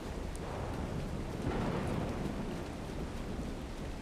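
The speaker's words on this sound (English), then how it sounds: "Speaking of rain, would you please stop? It's a little bit too much." Heavy rain and rolling thunder from the ARK: The Center survival game form a dense, steady downpour with a low, sustained rumble swelling near the middle, with no voices.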